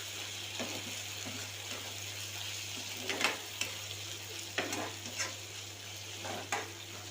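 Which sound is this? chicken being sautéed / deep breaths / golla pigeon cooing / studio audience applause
chicken being sautéed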